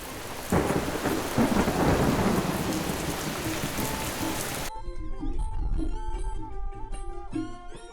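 A rain and thunder effect from an animated Khmer fairy tale: heavy rain pours with rolling thunder for roughly the first five seconds, then gives way to melodic music.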